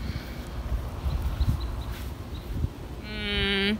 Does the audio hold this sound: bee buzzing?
yes